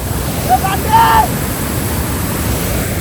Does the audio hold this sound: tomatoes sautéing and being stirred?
no